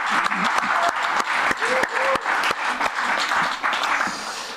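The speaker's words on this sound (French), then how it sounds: "Est-ce qu'on peut applaudir encore notre band?" Applause from a church congregation for the worship band, a dense steady clapping wash that fills the whole stretch, with a few brief voices and cheers rising over it.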